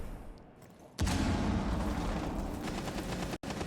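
A single loud gunshot from a shotgun in Rainbow Six Siege, a sharp blast followed by a sustained rumbling tail, with another brief crack near the end.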